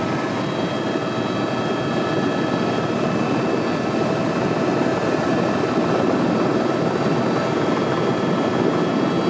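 Helicopter coming in to land on Maui, a loud, steady rotor and engine roar that stays close and constant throughout with no talk.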